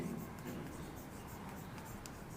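Chalk or marker writing on a classroom board during a Class 12 physics lesson on ray optics, a steady faint scratching that runs continuously under low room noise.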